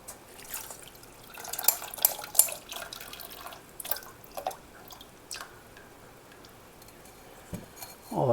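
Water drips and trickles as soaked microgreen seeds are strained, with scattered small splashes and light clinks of a utensil. A louder pour comes near the end.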